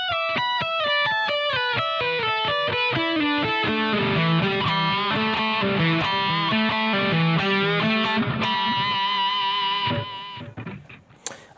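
A distorted electric guitar plays a slow descending lick with pull-offs, the notes ringing clearly and steadily on their own before a short fading tail, with no talking.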